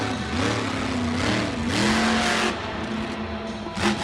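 Monster truck engines rev loudly at Bristol Motor Speedway, a roaring mid-pitched growl with rising and falling throttle sweeps and constant crowd-arena wash, all close and continuous with no talk.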